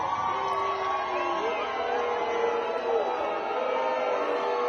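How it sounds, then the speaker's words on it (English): Recorded crowd booing and jeering a politician named Murphy, a sustained roar of many voices with shouts and whoops, played back steadily over several seconds. "You want to hear Fuckface Murphy getting booed?"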